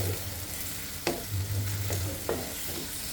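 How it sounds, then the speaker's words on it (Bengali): Onion with bay leaf and black pepper fries lightly in a pan, a soft steady sizzle broken by a few sharp scrapes of a stirring spoon, close and without talk. "গোলমরিচ পেঁয়াজটাকে হালকা ভেজে নিচ্ছি আর কি"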